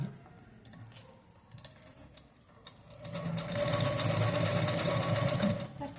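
A sewing machine stitches through fabric, quiet at first, then whirring in a loud, steady run close by for the second half, with faint clinks before it starts.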